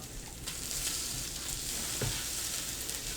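Breakfast food sizzling in a pan, a constant close crackling fry with a few scraping stirs and light knocks of a utensil, no voices.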